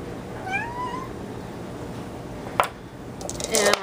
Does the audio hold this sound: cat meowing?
yes